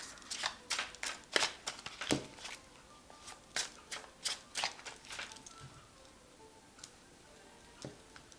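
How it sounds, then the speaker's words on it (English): Quick riffling snaps of a tarot deck being shuffled, in a burst of crisp clicks, then scattered softer taps in a quiet room. "So I'm just going to shuffle this deck."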